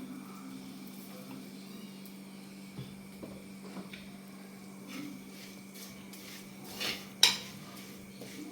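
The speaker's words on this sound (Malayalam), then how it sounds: "നല്ലോണം ഇളക്കി കൊടുക്കാം കേട്ടോ" A spoon stirring a pilopi fish curry with coconut milk in a pot, giving soft intermittent scrapes and clinks near a low hum, ending in a sharper metallic clatter.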